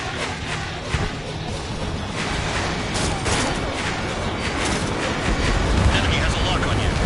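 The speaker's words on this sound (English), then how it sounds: "Missile launched." Missile launch in the Ace Combat 7 jet combat game, a dense continuous roar of rocket exhaust and explosive rumble filling the whole stretch, loud and sustained with no clear break.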